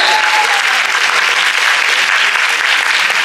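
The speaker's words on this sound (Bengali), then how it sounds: "প্লিজ একটা জোরে হাততালি হোক সবাই মিলে" Sustained, dense audience applause at a Keya Seth Adwitiya semi-final event, loud and even from start to finish, with many hands clapping together and no voices standing out.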